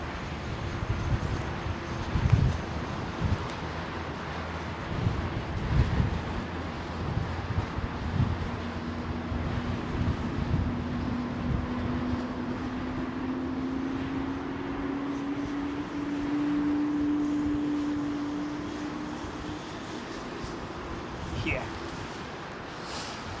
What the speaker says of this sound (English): That's that Trent 1000s on that 787-10. It's got quite a distinctive startup noise